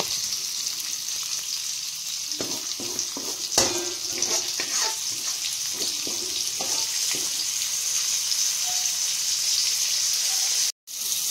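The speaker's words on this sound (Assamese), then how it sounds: "তাতে আমাৰ এতিয়া অকণমান আৰু তেল দি পেলাই ইয়াতে আমাৰ পটল কেইটা দি দিয়া হৈছে" Stuffed pointed gourds (parwal) fry in oil in a kadhai with a constant bright sizzle, while a utensil scrapes and knocks against the pan in a run of short strokes early on, then the frying continues alone.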